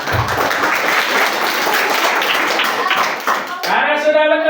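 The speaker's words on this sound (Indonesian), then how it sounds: "Tepuk tangan dulu." A crowd of children in a classroom-style Islamic story session claps loudly and densely, then the applause breaks off and a voice begins speaking near the end.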